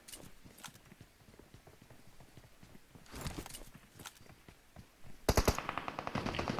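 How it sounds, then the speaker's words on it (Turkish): Footsteps and a scatter of gunfire in the PUBG Mobile battle game, set around a bridge ambush, with quick clicky step-like taps in the opening seconds, then louder bursts of shots and rapid repeated impacts toward the end. "Ayak sesi."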